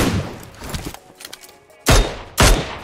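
Video game gunfire: a scatter of quick shots early on, then two sharp, loud blasts close together near the end.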